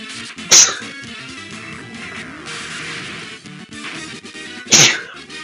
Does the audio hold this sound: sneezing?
yes